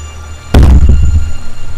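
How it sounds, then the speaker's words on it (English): A single loud, close explosion in the Bigfoot video game bursts out suddenly, then trails off into a rumbling decay with lingering low booms. "that sounded like an actual explosion"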